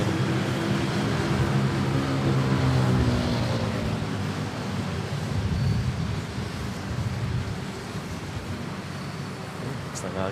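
Airbus A320 jet touching down at Manila airport, heard from a distance as a broad steady rumble and roar, with wind noise throughout.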